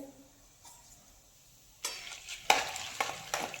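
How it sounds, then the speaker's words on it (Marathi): Roasted chana dal fries in oil for Marathi chivda, a quiet start giving way to louder crackling sizzle and stirring scrapes in the second half, with no voices. "अगदी दीड ते दोन मिनटं फक्त आपल्याला हे फ्राय करून घ्यायचं आहे"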